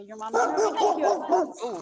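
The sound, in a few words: dog barking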